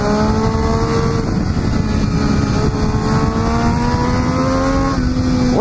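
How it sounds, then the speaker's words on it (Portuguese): A 2014 Triumph Daytona 675 R motorcycle accelerates hard into a tunnel, its loud, close engine tone climbing steadily through the gear with a brief shift near the end, echoing off the walls. "vamos encerrar no túnel aqui, porque essa daqui é uma moto que merece"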